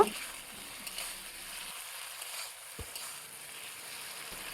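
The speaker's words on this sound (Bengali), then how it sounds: "ভেজে রাখা আলুটা আরও বেশ কিছুক্ষণ আলুটাকে আমি মশলার মধ্যে কষিয়ে নেব" Fried potatoes being sautéed in a spice masala for a papad curry, a soft low sizzle with occasional scraping stirs, one brief knock partway through, and no talking.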